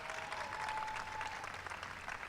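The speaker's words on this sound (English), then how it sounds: "Stand up, Phoebe, so everybody can give you a big round of applause" An audience at a White House astronomy night applauds a student, a soft, steady patter of many hands heard from a distance, with no voices.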